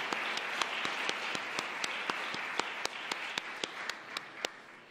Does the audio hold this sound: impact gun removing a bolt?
no